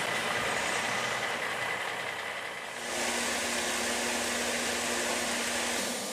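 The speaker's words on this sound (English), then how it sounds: "tractor trailer loads a day of wood, and here's one coming in right now." A loaded tractor-trailer hauling wood pulls in at a plant, a steady broadband engine roar with a low drone that swells louder midway through as the truck approaches, no voices.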